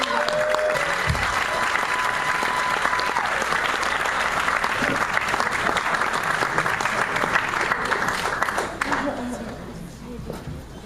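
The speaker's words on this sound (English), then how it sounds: "I want you to give a round of applause to the one and only Dorson Dean Delray!" A comedy club crowd applauds a stand-up comedian being introduced, a steady, full wash of clapping and cheering that holds for about nine seconds before starting to fade, with a host's voice faintly mixed in.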